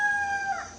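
A rooster crows outdoors at sunrise, one sustained, fairly loud call heard alone with no voices over it.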